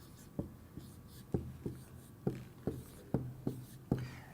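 A pen writing numbers on paper, with close, crisp strokes and taps in short bursts, about ten distinct scratches in an uneven rhythm against a quiet room background.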